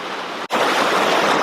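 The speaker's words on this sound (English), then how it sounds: "We've had a lot of rain here lately, so the water's moving pretty good." Creek water swollen by heavy rain rushes steadily past at close range, a dense unbroken wash of flow with one momentary dip before resuming at full strength.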